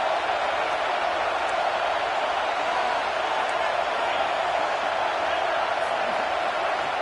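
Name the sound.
football stadium crowd cheering for the defense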